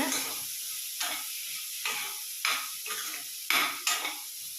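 Vegetables for paneer noodles sautéing in a pan, a soft sizzle punctuated by roughly six sharp scraping and tossing strokes at regular intervals, fairly quiet and close.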